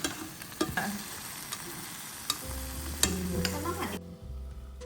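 Lobster cooking in a pan with garlic butter, a soft sizzle and frying crackle with scattered clicks and stirring knocks, fairly quiet, ending in a low steady hum.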